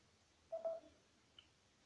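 A Samsung Galaxy S10 5G phone plays a short, quiet startup chime when switched on: a brief tonal note followed by a faint click.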